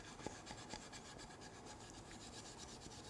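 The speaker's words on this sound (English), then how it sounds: "So I'm just going to use the steel wool on it without any paste wax." Steel wool rubs briskly over a wooden raised panel box, producing a dry, rasping scrub in quick repeated back-and-forth strokes, close and fairly quiet, with no voices.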